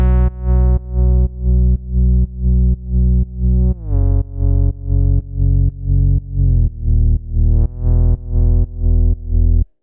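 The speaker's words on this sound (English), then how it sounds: "the bass group sounds like this" A melodic house bass group plays in repeated, evenly pulsed notes, with gliding bass pitches and a mid bass carrying a fifth on top, loud and alone with no other sounds.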